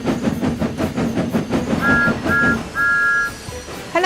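Thomas the Tank Engine gives three short two-tone steam whistle blasts, loud and clear, over a rhythmic chuffing and rolling clatter of the toy engine on its track.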